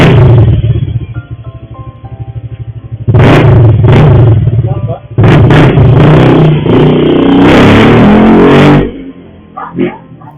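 Honda Click scooter fitted with a new aftermarket exhaust, revving near 2000 RPM: a loud, steady engine drone with several sharp throttle bursts, ending on a quieter tail.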